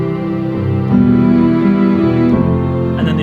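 Cinematic pop orchestral melody doubled by an added line an octave lower, sustained string-like notes moving slowly over a full, loud backing with no talk.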